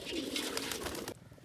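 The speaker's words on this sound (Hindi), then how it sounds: "तो फ्रेंड ये देख लो कैसे कबूतर नहा रहे हैं पानी में।" Pigeons cooing briefly at close range while bathing in water in a village setting, a short soft burst that cuts off abruptly.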